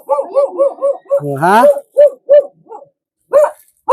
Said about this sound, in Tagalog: Yung aso.